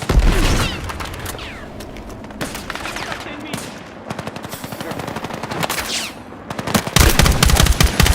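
Battlefield 6 combat plays out in dense bursts of rapid machine-gun fire and heavy gunshots, loud and close, with a few booms and radio-style voices over the shooting.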